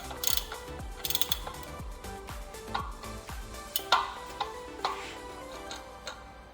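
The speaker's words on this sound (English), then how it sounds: "using a cassette lock ring tool to tighten it" A cassette lock ring tool is ratcheted to tighten the lock ring on the rear wheel of an Avro bike converted to 11-speed, giving a rapid, close, steady clicking of pawls with a few sharper metallic clinks.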